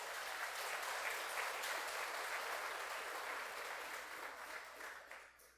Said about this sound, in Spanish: Dale un aplauso al Señor entonces